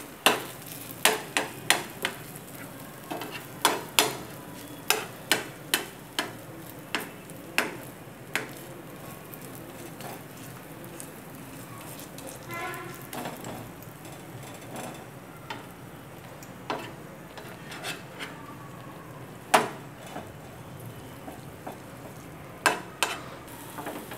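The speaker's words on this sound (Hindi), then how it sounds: "इस तरह से हिलाएंगे ताकि अंदर से घी तक पहुँच जाए और चिपके नहीं है" Dough frying in ghee in a pan gives a soft, continuous sizzle. Sharp clicks and taps from the pan or utensil recur throughout, more often early on, with no talk.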